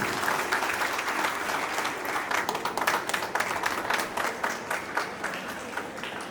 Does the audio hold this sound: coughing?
no